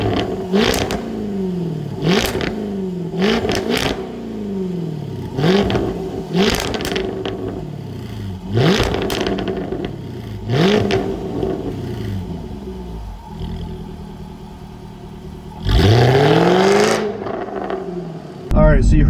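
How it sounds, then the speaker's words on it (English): Jaguar F-Type R exhaust revving hard in repeated bursts, each rising sharply then falling back, loud and close, with a final louder roaring blip near the end. "Alright, so you heard the sound of the Jag exhaust."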